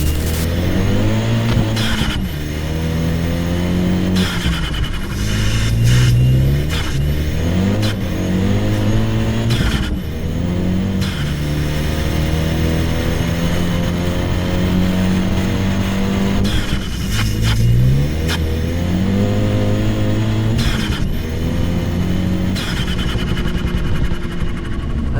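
A turbo-swapped Renault Clio 197 on the road, its engine droning loud and close through repeated rising revs and gear changes, with turbo whoosh and exhaust bursts between shifts across the drive.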